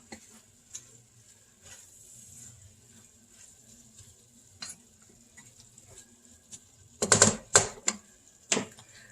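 Taco meat and Rotel stirred in a pan for a keto meal prep, a soft low sizzle with scattered scrapes, then a cluster of sharp spoon clacks and scraping near the end.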